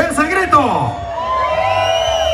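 A crowd at a Spanish-language event answering a host's call with a burst of loud shouting and whooping, which then thins into a sustained cheer and fades out.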